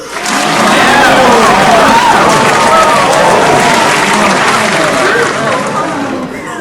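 A crowd cheers and applauds together after being asked about anime, a sustained roar of voices and clapping that swells quickly, holds for several seconds, then begins to fade.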